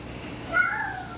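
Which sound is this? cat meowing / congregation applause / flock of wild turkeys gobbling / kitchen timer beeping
cat meowing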